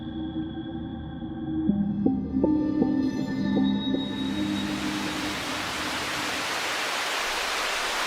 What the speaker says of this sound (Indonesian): Hujannya kok deras banget ya?